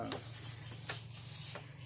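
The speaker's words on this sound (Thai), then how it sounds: "นี่ก็ใช้เลื่อยตัดปกตินะครับ" Short rasping strokes of a handsaw cutting through plastic water pipe, a few back-and-forth passes, close by with a steady low hum underneath.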